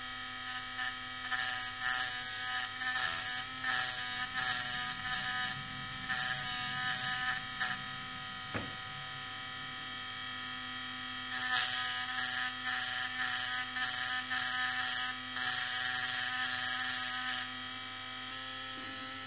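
A small handheld electric grinding device buzzes steadily while grinding material off to make an ND filter for an endoscope lens, running in several bursts separated by short pauses, close and fairly loud, with no talking.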